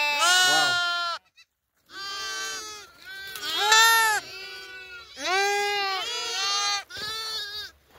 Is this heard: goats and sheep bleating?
yes